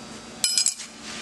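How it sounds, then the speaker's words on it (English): Steel wrenches clinking together while changing the lower drill bit on an Atwood ITGD1200 glass drilling machine, three quick bright metallic clinks close up, then quiet shop hum, with no talk. "To change the lower drill bit, you simply take your wrenches"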